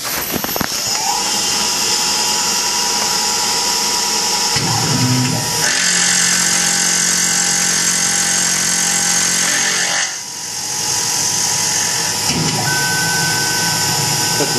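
A Tormach PCNC 1100 CNC mill makes a test cut with a steady, loud, close machine whine and several sustained tonal pitches, its tone shifting as the cut progresses, with a brief dip near the end.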